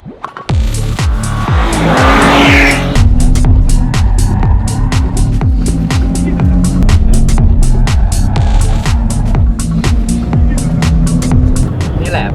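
A 2021 Porsche Cayenne E-Hybrid, a two-ton SUV, is driven hard. The engine sounds loud and close as it revs up again and again through quick gear changes, with a throbbing drone and a hint of tyre noise.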